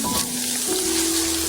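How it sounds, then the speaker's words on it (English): Crispy beef tacos fry in hot oil, giving a steady crackling sizzle with a few faint tonal hums underneath and no voices. "Oh yeah, we're getting the deep sizzle."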